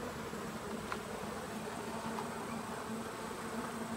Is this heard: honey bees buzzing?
yes